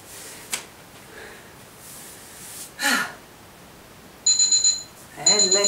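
A workout interval timer beeps near the end in two short bursts of rapid repeated high tones, after a quiet stretch with a few breaths and faint sounds.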